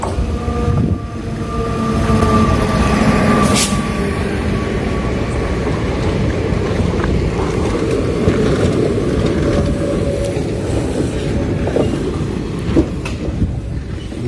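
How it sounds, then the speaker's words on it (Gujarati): A train arrives at a station, rumbling in loud and close, steady wheel noise with clacking and a brief high squeal, the rolling roar filling the whole stretch. "ટ્રેન આવી ગઈ છે"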